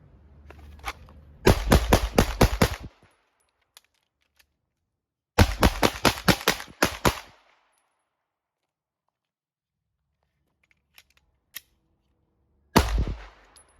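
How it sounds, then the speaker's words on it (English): A handgun fires rapid strings of shots during a concealed carry drill, two fast volleys of about seven or eight cracks each, then isolated single shots and a final burst, loud against near silence. "I'm going to pretty much just shoot as fast as possible, going in 3s, and whatever I have left, I'll just expel it"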